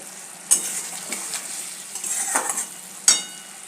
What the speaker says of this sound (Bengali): তো সেই জন্য এখানে মশলা কষিয়ে নিচ্ছি